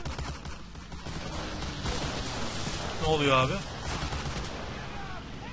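Bursts of gunfire crackle through the WWII shooter Medal of Honor Allied Assault in a bombed French city, rough and steady behind a voice talking over the action.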